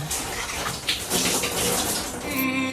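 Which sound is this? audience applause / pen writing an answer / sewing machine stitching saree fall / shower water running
shower water running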